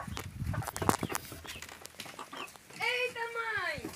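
Farmyard chickens cluck and squawk at close range, with one loud drawn-out hen call near the end, while people talk over the birds throughout.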